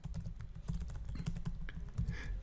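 Typing on a computer keyboard while writing Python test code, steady rapid key clacks with irregular rhythm, fairly close and moderately loud, no talking.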